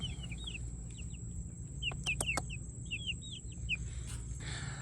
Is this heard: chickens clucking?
yes